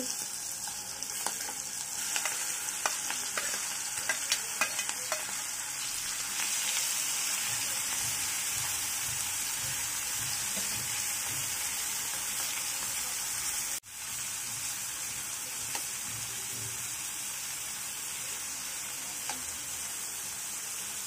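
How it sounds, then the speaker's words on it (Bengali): Dried shrimp frying in hot oil for a Bengali horina chingri bhuna, giving a steady broadband sizzle with occasional stirring scrapes. It holds close and even for the whole stretch, dipping briefly midway, with no talking. "তেলটা গরম হয়ে আসছে। এখন আমি এর ভিতরে মাছগুলো দিয়ে দিচ্ছি।"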